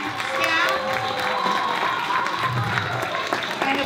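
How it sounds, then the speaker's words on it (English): An elementary school audience applauds staff at a Black History Month program, a sustained wash of steady clapping from a crowd with children's voices and chatter mixed in throughout. "Let's give them a round of applause."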